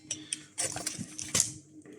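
Glass Geiger counter tubes clink and tap against each other as they are handled, giving a few light, close clicks and rattles with no talking.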